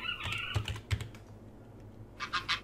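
Quick bursts of keystrokes on a computer keyboard, a few separate clacks and then a short flurry, close and fairly quiet with no one speaking.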